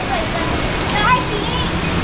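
Water rushes and splashes steadily at an outdoor spot where children are playing, a continuous broadband wash with voices talking over it.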